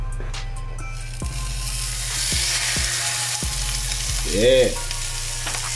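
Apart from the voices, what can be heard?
shrimp-stuffed cheeseburgers sizzling as they fry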